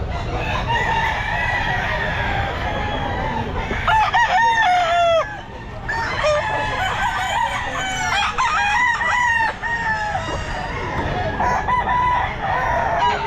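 Several roosters at a pet market crow loud and close, their calls overlapping and repeating over a constant background of clucking fowl and crowd murmur.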